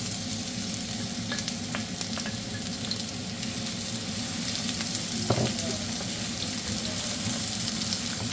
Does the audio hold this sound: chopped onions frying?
yes